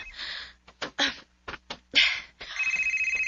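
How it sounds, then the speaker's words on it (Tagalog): Mobile phone ringing with an incoming call, its electronic ringtone pulsing steadily at the end after a series of short clattering knocks and bumps, heard close by in a quiet indoor room. "ang akong phone. May nanawag."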